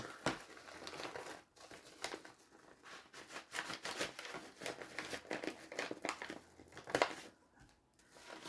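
A parcel of football trading cards is opened by hand, with close, steady crinkling and tearing of packaging and a few sharper rustles, and no talk.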